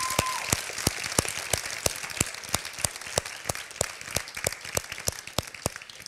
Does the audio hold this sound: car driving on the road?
no